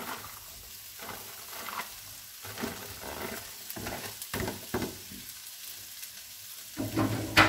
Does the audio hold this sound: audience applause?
no